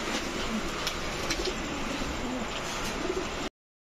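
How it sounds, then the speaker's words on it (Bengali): Pigeons, high-flier and racer breeds kept in pairs, coo in repeated low soft bursts close by against a steady background hiss. "টোটাল 3 জোড়া 3 কালারের কবুতর"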